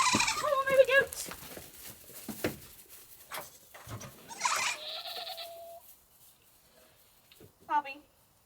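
Baby goats bleat several times in short wavering calls, mixed with people talking nearby, then a last bleat near the end.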